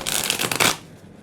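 A tarot card deck is riffled and shuffled in one quick, loud, close burst of rapid flapping card sounds, then it stops abruptly.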